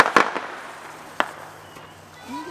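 Smoke bombs going off outdoors, a few sharp pops and crackling bursts close by, followed by a quieter fizzing tail and a faint rising whistle.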